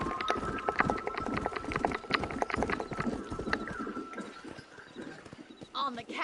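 Horse hooves clip-clop steadily at a riding pace in Red Dead Redemption on PS4, a dense rhythmic patter under ambient game noise, with a voice and other sounds briefly near the end.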